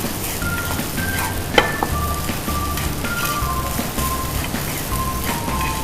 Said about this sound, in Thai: ตอนนี้เราก็ผัดให้เข้ากันนะคะ กุ้งเสียบข้าวผัดใส่เข้าไปนะคะ